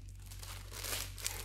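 A clear plastic bag holding a sewing pattern crinkles close up in a short, quiet burst of crackling over a low hum.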